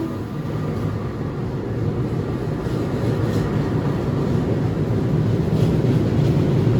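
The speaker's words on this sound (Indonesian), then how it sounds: "Jalur 2, hati-hati kereta api melintas langsung." A train passes straight through Matraman station in a steady, continuous rumble of wheels and rolling stock, moderately loud and building slightly, with no talk.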